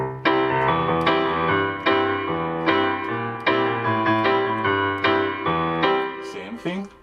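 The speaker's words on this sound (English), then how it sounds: "we created what we call a one-drop drum." A Jamaican one-drop drum pattern with stressed accents plays in a dense band mix, steady and loud with repeating rhythmic hits and sustained tones throughout, alone without talk.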